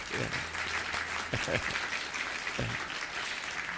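A church congregation at Sunday worship applauds to welcome visitors, a soft, steady wash of clapping somewhat distant, with a couple of brief voices murmuring beneath it.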